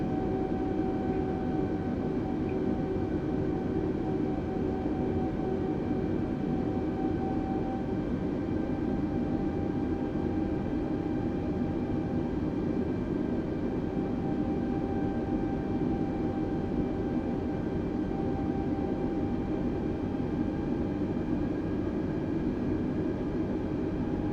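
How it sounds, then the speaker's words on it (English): A default Airbus A320 in Microsoft Flight Simulator 2020 taxis with a constant engine hum and thin whining tones, steady and unchanging throughout with no voices. "Now the aircraft taxis quite nicely, I have to say, so far."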